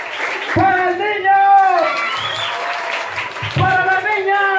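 Children's audience applauding and cheering for a boy at a primary-school entertainment event, a broad wash of clapping with excited young voices shouting and an adult talking over it.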